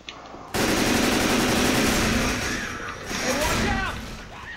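A Spaz 12 combat shotgun in Left 4 Dead 2 fires in a dense, sustained barrage of loud blasts, mixed with zombie noise and game effects, with voices talking over it.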